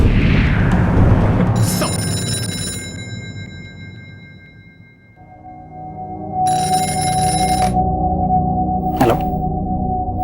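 A telephone rings in a tense control-room scene tied to a hijacked bus, a bright repeating electronic ring pattern standing out over a steady hum and background noise, with no voices.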